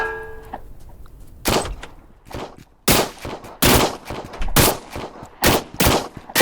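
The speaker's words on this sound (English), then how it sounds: "What are you shooting me for?" Several loud, sharp gunshots ring out in the Trans-Siberian Railway Simulator video game, spaced irregularly as single and paired bursts after a brief tonal cue, with no talk over them.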